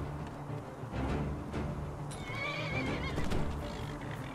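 A horse neighs loudly in the video game Enderal, with hoofbeats clopping beneath it in a game soundscape and no talking.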